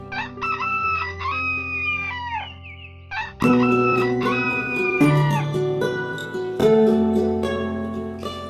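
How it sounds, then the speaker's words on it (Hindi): A rooster crows several times, long drawn-out calls close by, with other fowl clucking and calling in between. "सुबह के 8 बज रहे थे और मुर्गे ने बांग दे दी थी।"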